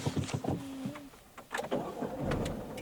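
A manual Chevrolet Spark with a 1.0-litre three-cylinder engine starts up: a short whirring crank, then the engine catches and settles into a steady, close idle.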